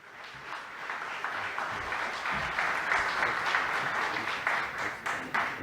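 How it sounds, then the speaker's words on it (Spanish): Conference audience at a pest-control industry event in Peru breaking into applause, clapping building from sparse hands to a sustained full crowd, with a faint voice underneath. "Recibámoslo, por favor, con un fuerte aplauso."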